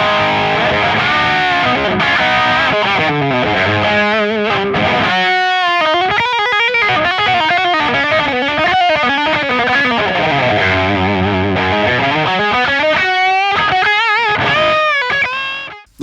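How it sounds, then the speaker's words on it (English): Electric guitar through a Hotone XTOMP pedal, its TS808 green drive blended with a Kraken Gain model, playing distorted chords and melodic bends loudly and alone, with brief pauses between phrases. "So I've got the green drive, which is the TS808, and I'm going to blend that with the Kraken Gain 1"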